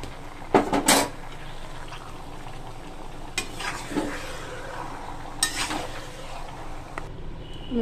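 Meat cooks with spices in a pot, a soft, steady sizzle and frying hiss broken by a few sharp clinks and scrapes of a utensil stirring against the metal.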